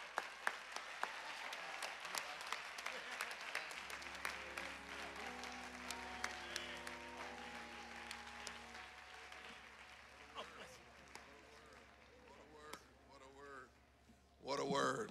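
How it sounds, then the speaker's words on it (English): An audience claps after a eulogy at a celebration-of-life memorial service. The applause is strong at first, then thins as sustained organ-like music carries on beneath it, and a voice comes in near the end. "And while you're clapping, would you help us to celebrate the life and legacy of Dr. Eddie Bernice Johnson one more time"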